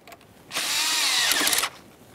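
A power driver tightens an 8mm-headed hose clamp on the throttle body of a 2007-2013 Acura MDX with the 3.7L V6, giving a single steady whir of about a second, close and alone.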